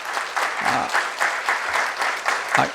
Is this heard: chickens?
no